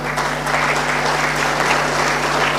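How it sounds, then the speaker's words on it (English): Steady applause from a large business networking meeting audience, a dense patter of clapping holding at an even level throughout. "please do not stop the claps"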